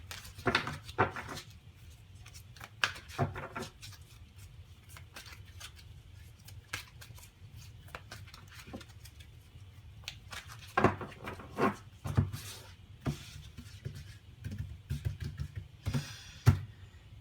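Playing cards shuffled face-down in small hands, giving soft riffling and snapping bursts in scattered clusters, some louder flurries near the end, over a low steady hum with no talking.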